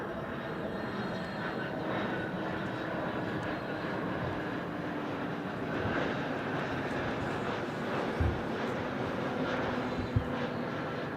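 Steady, loud roar of a fixed-wing aircraft on final approach before touchdown on runway 14 at Dhaka, a continuous broadband engine and wind rush with a few brief thumps.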